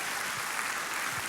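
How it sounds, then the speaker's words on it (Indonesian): A church congregation claps together in sustained, dense applause, a steady wash of many hands with no pauses over the short stretch. "Tepuk tangannya boleh yang paling meriah buat Tuhan kita."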